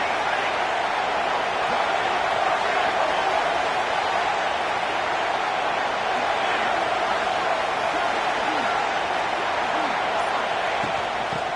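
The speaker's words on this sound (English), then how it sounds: "the Buckeye crowd alive on 3rd down" An Ohio State Buckeye football stadium crowd roars on third down, a loud, sustained wash of massed voices that holds steady for the whole stretch without letting up.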